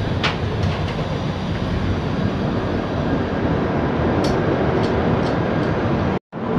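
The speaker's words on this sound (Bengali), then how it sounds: "জাজপুর কেওনঝাড় রোড ছেড়ে তার যাত্রাপথের গন্তব্যে পুনরায় চলল।" The Puri–Howrah Shatabdi Express stands at Jajpur Keonjhar Road station with a steady, loud rumble of engine and carriages, a few faint clicks over it and a brief drop out near the end.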